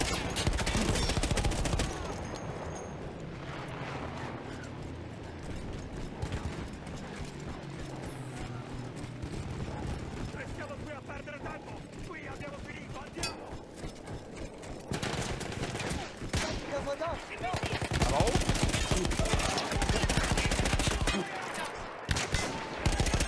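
Battlefield 1 on PS4 delivers sustained gunfire: rapid bursts and scattered shots crackle across a busy battlefield mix, growing louder and denser toward the end, with little speech.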